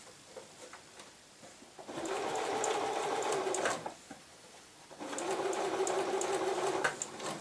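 Sewing machine stitching an invisible zip, two steady humming runs of close machine stitching with a quiet pause between them, ending in a short back stitch.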